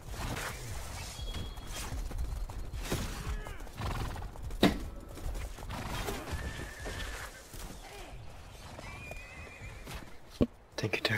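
In the War of the Roses video game, horses whinny and neigh amid clip-clopping hooves and clashing battle sounds, with a sharp impact near the middle, while players talk over the action throughout.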